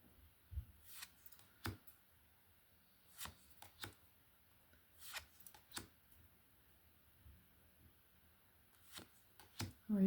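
A glossy playing card slides and is handled in a quiet room, giving sparse soft swipes and light taps spaced irregularly, faint and close, with no talk.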